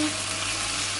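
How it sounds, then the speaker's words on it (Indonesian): Spring onion and lemongrass sauté in hot oil in a pan, a loud, bright, continuous sizzle with faint stirring, close up and without talk. "Setelah ini kita akan tumis lagi sampai nanti daun bawang dan lencanya itu layu"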